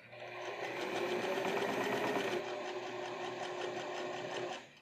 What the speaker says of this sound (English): And then sew them down onto the actual lining along those same two edges.